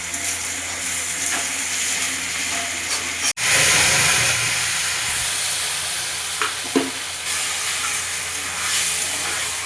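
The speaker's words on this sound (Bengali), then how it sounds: "প্রথমে হলো আলু আর পেঁয়াজ সুন্দর করে ভাজা হচ্ছে" Potatoes and onions fry in a pan for ghugni, giving a steady, close sizzling hiss that runs the whole time, with a sharp stirring clatter near the middle and a few smaller scrapes later on.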